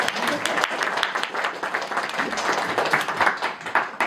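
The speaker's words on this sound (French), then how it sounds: "Faut l'applaudir quand même." An indoor audience claps, with a dense, steady patter of many hands lasting several seconds at moderate level.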